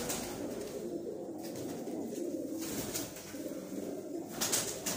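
Pigeons coo steadily in a breeding setup of Rampuri choha pigeons, a close, continuous chorus of low throaty calls that runs throughout, with no talk over it.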